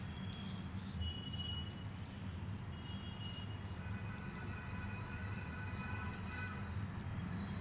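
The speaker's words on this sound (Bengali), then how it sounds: "আবার ভালো করে 2 পিঠ বেশ লাল লাল করে ভেজে নিতে হবে।" An egg roll fries in a pan with a steady, dense sizzle and crackle that stays even throughout, close and moderately quiet, with no talk.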